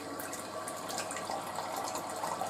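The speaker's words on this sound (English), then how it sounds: "That's the filter filling up." A Frigidaire Pure Source Ultra ULTRAWF refrigerator water filter fills with water, producing a soft, continuous hiss and trickle with faint bubbly ticks, quiet and unbroken throughout.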